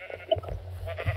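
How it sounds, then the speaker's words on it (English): A sheep in the Minecraft video game bleating a short, close, wavering call, heard alone for about a second. "That's a sheep."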